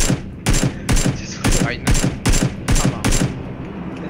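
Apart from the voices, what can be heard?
gunfire from the video game PUBG (Battlegrounds)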